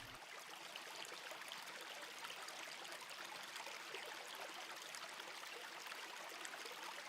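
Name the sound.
Potash Brook stream flowing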